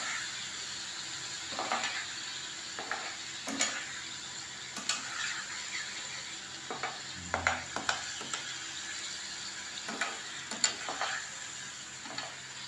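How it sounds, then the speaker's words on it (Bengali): Sour yogurt being stirred into a katla fish curry in a pan, a soft low sizzle with intermittent scraping and clinking stirs, fairly quiet throughout. "আমি এখন টক দইটা দিয়ে একটুখানি বেশ কিছুক্ষণ নাড়াচাড়া করব"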